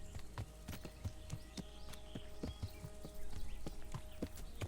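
Hooves of a heavily laden horse in the medieval video game Kingdom Come: Deliverance, clip-clopping in a steady walking rhythm, close and moderately loud over a low background bed.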